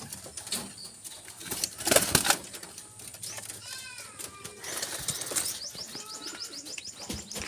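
Pigeons fluttering and flapping their wings outdoors, with a busy flurry of wingbeats, scattered coos and chirps, and background noise throughout.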